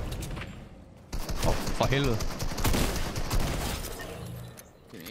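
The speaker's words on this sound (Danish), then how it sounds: "Jeg kunne bare høre, der kom nogle skud overfra." Gunfire from above in the video game Fortnite rattles off in fast bursts under excited shouts from a player.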